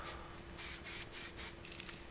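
A spray can hisses in several short bursts while interior-style FRP work is done on a car's A-pillar, each spray a close, soft rush separated by brief pauses over a low background hum.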